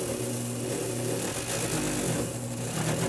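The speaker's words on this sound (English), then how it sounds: "I have a small buffing pad on here, and I use this white buffing compound" Small buffing pad spinning with white buffing compound: a steady motor whine with a low hum that stays loud and constant throughout, with no voices.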